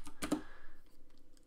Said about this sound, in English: If I now start typing